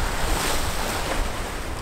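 Ocean waves wash against a beach while strong wind buffets the microphone, making a steady, loud, rushing roar with no pauses and no voices.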